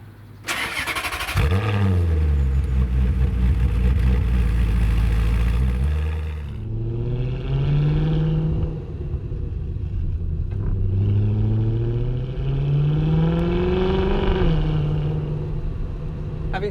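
Maserati GranSport or Porsche 997 C2S sports car cranks and fires into a loud rev, then drives off, its engine note climbing through gears in repeated rising sweeps, close and clear with no talk.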